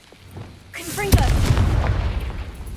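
A Confringo fire-blast spell from Hogwarts Legacy bursts with a deep, booming explosion, preceded by rising whooshing streaks and followed by a long rumbling tail; a voice speaks just before the blast.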